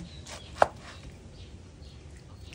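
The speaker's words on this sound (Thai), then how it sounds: "สับปะรด สะอาดสวยงามดีแล้วนำไปล้างได้เลย นำมาหั่นเป็นชิ้นเลยค่ะ" A knife cuts through a washed pineapple on a board, giving one sharp, close chop against quiet background noise.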